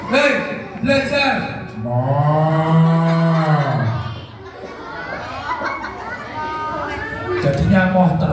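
Schoolchildren at an Isra' Mi'raj school event imitate a cow's moo, drawing out long lowing calls in chorus, loud and close, mixed with their chatter.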